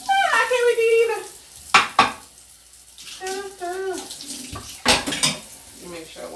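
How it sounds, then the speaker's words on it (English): Raw meat is washed in a home kitchen during dinner preparation, with running water, sharp clatters of dishes and pans, and a voice heard intermittently in between. "Let me make sure I wash it one more time."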